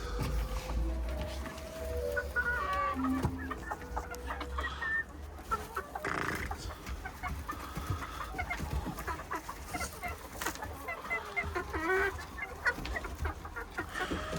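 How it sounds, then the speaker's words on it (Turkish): Young blue İspenç hens cluck and murmur softly throughout, several birds at once amid a low outdoor background. "Burada blue yarkalarım var."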